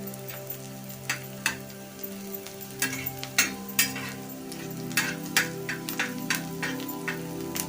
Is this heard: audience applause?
no